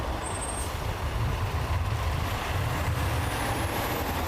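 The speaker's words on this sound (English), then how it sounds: "semi-trucks continue to roll past" Semi-trucks roll past at a border crossing, a steady low road rumble from passing heavy vehicles with a faint high hiss, moderately distant and free of talk.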